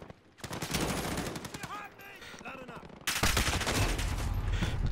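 Gunfire in Call of Duty Modern Warfare (2019), bursts of rapid shots at first, then a brief lull with a voice, then heavier sustained firing that grows loud and dense.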